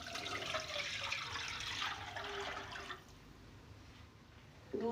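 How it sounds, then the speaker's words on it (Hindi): Milk poured into a pan on the stove while making gajrela, a steady liquid splashing stream for about three seconds that then fades to quiet, with a brief knock at the very end. "सबसे पहले मैं उसमें ये दूध डाल दूँगी"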